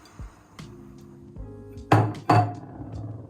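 Chopped peppers, onion and garlic tipped into a Tefal ActiFry bowl, giving a few clattering, clinking knocks of food and utensil against the bowl, with two louder, close bursts near the end and quieter rattles between.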